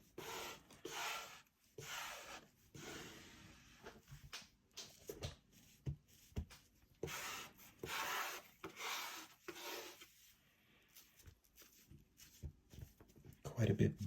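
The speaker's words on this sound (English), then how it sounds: "So I'm using a squeegee basically to flatten the cover, make sure it's nice and flat" A squeegee is pushed across a wet, water-damaged comic book cover to flatten it, making close, intermittent rubbing and scraping strokes of varying loudness.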